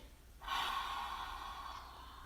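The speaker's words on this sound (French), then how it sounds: "Et soufflez par la bouche." During yoga breathing in crocodile pose (makarasana), one person exhales forcefully through the mouth in a single long, breathy whoosh that starts abruptly, then slowly fades. It is close and moderately loud with no talking.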